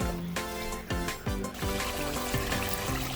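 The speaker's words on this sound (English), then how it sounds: "I'm adding water to the jollof to the stew." Water pours into a pot of jollof stew in a steady close trickle and splash, fairly faint with a few bubbling surges.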